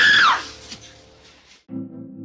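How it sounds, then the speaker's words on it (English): A woman screams with delight, a short shrill burst at the start that fades into quiet room noise, followed by a low musical tone. "Andy runs into the house, leans up against the inside of the door, and screams with delight."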